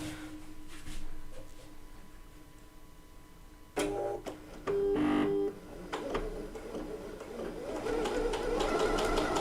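A Bernette B79 sewing machine, YaYa Han Special Edition, runs a decorative stitch in short bursts of whirring and tonal stepping, moderately close, with brief pauses between runs.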